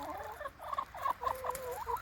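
Chickens and ducks pecking at carrot greens, with a run of soft clucks and short fowl calls close by over a low background murmur.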